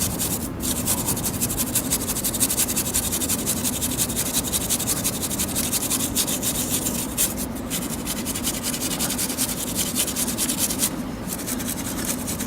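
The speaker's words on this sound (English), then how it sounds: "I'm going to give it a bit of a brush just to agitate the dirt" A brush scrubs dirt and old lubricant off a motorbike chain, a close, continuous gritty scratching in steady rapid strokes that lasts the whole time.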